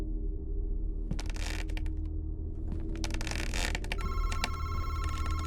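A home telephone rings in repeated electronic bursts, fairly close, over a steady low background hum with no one speaking.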